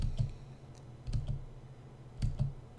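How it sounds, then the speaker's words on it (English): Spacebar presses on a computer keyboard, a few distinct soft clicks spaced about a second apart over a low hum, close and fairly quiet. "you would press the spacebar key."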